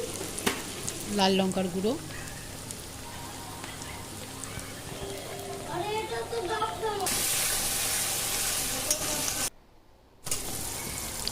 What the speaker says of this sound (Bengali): আদা রসুন বাটা দিয়ে ভালো করে কষিয়ে নিচ্ছি